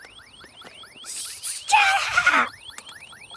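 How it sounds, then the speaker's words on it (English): An alarm set off in a video game repeats a rapid, steady series of rising electronic whoops, while a shouted voice and a burst of noise cut in midway. "I accidentally set the alarm off."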